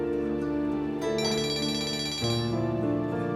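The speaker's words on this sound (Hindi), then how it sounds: "मम्मी का फोन आ रहा है, उठाना पड़ेगा" A phone rings with a bright electronic ringtone, a steady repeating melodic pattern heard clearly on its own with no talking over it.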